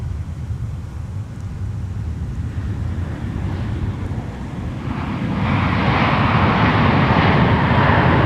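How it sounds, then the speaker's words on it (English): A Boeing 737-900ER jet arrives at Minneapolis–St. Paul Airport from Detroit, a low broadband rumble mixed with wind buffeting that swells louder and brighter partway through as the aircraft draws nearer. "737-900ER coming in from Detroit Metro Airport"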